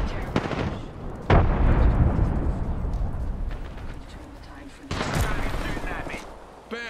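A frag grenade blast in Apex Legends, a loud heavy boom that decays slowly into a rumble, followed by a second sharp impact and scattered gunfire, with voices in the background.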